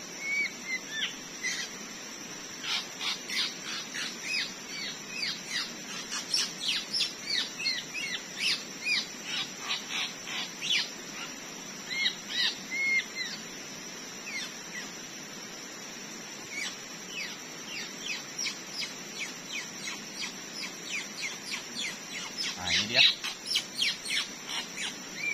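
A white-rumped shama, a forest-caught murai batu, calls while being held in the hand, giving a steady run of bright chirps and tweets through the whole stretch alongside a constant high insect whine.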